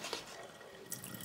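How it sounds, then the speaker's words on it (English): Water from a dish rack's drain runaway trickling into a kitchen sink in a Welsh miners' cottage, a faint, steady wash of dripping and flowing water with a couple of slightly brighter splashes, no voices. "all the water just gently drips down and goes into the sink"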